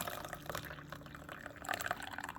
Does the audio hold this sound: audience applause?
no